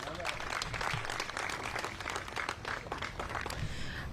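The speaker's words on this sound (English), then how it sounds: "Commissioner Castaneda, please give her a round of applause." Clapping from an audience at a mayor's press conference on flood funding, a moderate, continuous round mixed with background voices.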